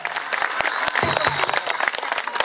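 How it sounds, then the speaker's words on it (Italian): A crowd bursts into loud, dense applause for a singer after a cover at the Turista Protagonista talent show in Cervo, a steady roar of many hands packed with sharp claps. "l'applauso forte, Cervo!"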